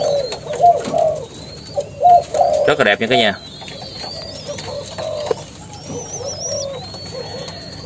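Young spotted doves about three to four months old coo softly and repeatedly in close range, with chirps and a brief burst of wing flapping, while someone talks over them.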